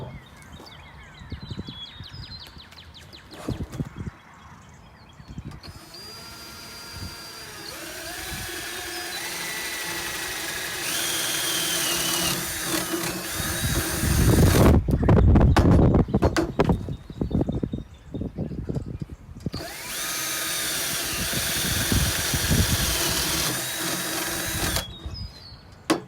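A power drill bores holes in a wooden bird feeder, running in several bursts of whining and rising pitch with pauses and clatter between them, close and moderately loud.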